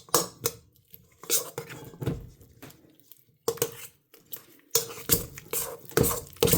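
Butter is creamed in a bowl for a strawberry cake, with a utensil scraping and knocking against the bowl in uneven bursts of clattering strokes separated by short pauses.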